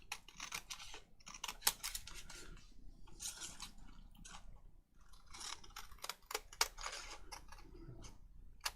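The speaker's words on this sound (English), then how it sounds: "My black handled scissors cut straighter when I'm cutting things out." Repeated crisp snips and rustling of scissors cutting through paper, close up, in quick irregular bursts with short pauses between cuts.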